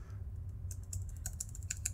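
Arrow keys on a computer keyboard tapped in a quick, irregular series of light clicks, close and fairly quiet, with a low steady hum beneath and no talking.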